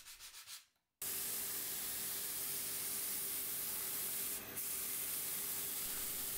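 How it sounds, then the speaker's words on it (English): Grain filler on a guitar body being sanded back to bare wood, a steady close abrasive rubbing hiss that continues evenly after a short burst at the start, with no talk. "The last coat gets sanded all the way back to bare wood, leaving the filler only in the pores."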